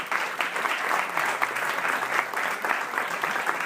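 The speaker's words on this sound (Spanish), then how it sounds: "Un aplauso para ellos" An audience at a science talk on forms of energy applauds steadily, a close, dense patter of many hands with small swells, no voices heard.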